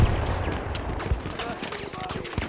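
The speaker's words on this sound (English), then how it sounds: "I got these cannons." Rapid aircraft cannon fire in a WWII naval combat video game, dense overlapping bursts with booming low thumps, loud and continuous under game noise.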